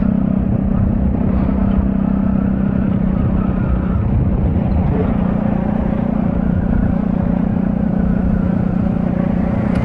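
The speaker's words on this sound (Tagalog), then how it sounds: "ingay na ang tambutso natin ingay pa ng paligid natin" Loud, steady motorcycle exhaust drone with a low engine rumble, continuous throughout and close by, with no talking; riding on the San Pablo Bypass Road in Alaminos, Laguna.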